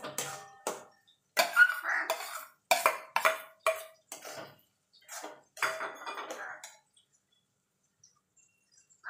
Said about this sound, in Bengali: এবার যে আমি মশলাটা করে রেখেছিলাম সেটা দিয়ে দেব, দিয়ে ভালো করে মিশিয়ে নেব।